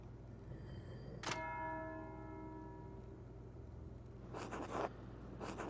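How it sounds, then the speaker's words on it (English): A church bell in the video game Pentiment rings for Sext, one clear struck tone that rings on and slowly fades over a steady low hum, followed later by a brief muffled rustle. "That's the bell for Sext."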